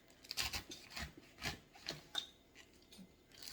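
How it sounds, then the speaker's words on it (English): A knife slices through a pile of collard greens on a board, giving a series of crisp, separate cutting strokes, close and fairly quiet, with no talking. "I'm going to cut in two directions."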